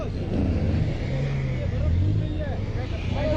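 Car engine straining as a vehicle stuck in Murree snow is pulled free, a low rumbling rev rising and falling beneath people talking nearby.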